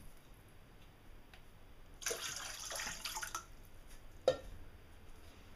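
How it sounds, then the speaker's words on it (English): Water splashes and sloshes in a short burst, then a sharp drip or plop, all fairly close and with no voices. "You're playing in the water."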